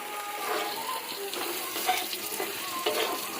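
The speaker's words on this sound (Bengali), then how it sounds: "ঠিক আছে, হালকা করে চিকেনটা রান্না হচ্ছে" Chicken frying with spices in a pan for a Bengali home-cooked dish, a dense continuous sizzle with soft stirring scrapes, close and steady, no talking.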